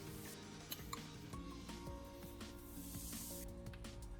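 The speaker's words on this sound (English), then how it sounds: "Then spray a light shot of WD-40 into the mix." A short hissing WD-40 aerosol spray bursts out close by, soft and airy, over faint background ticks and hum.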